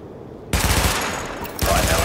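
Automatic weapon fire at targets during a weapon test in The Division erupts suddenly after a quiet lead-in, a loud sustained burst of rapid shots with a second surge near the end.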